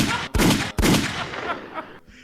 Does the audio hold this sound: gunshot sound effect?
yes